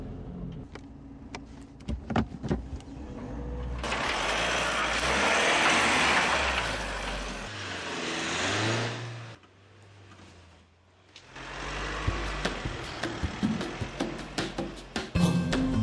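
A Volkswagen Amarok in 4x4 on a rough, wet road, with a steady engine drone and tyre and body rumble that swells, drops away briefly, then returns with rattles and knocks from the uneven surface.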